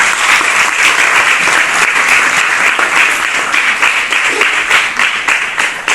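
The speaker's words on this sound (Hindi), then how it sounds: "इसलिए आप लोग के लिए एक जोरदार तालियां बनती है।" A crowd at a performance event breaks into loud, vigorous applause, with thick continuous clapping filling all six seconds at a steady level and no voices on top.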